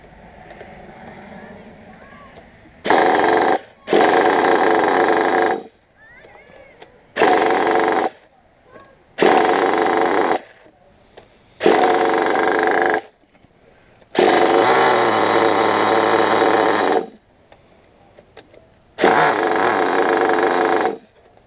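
A nitro-fuel engine revs in seven loud, sharp bursts of buzzing whine, separated by quieter idling gaps while its idle is adjusted, heard close by.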